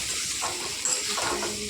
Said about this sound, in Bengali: তো এবার নাড়াচাড়া করে নেব।